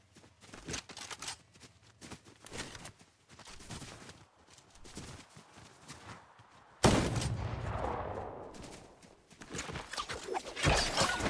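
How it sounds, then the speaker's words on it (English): A turret fires in Fortnite, with bursts of rapid automatic shots, the loudest stretch a sustained heavy volley in the middle and later bursts mixing with other game sounds. "I'm gonna take a turret instead."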